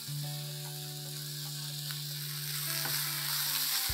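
Chicken with chili, cumin seed and coriander seed powders sizzles steadily in a pan while being stirred, a continuous frying hiss with a low steady hum underneath and no voices.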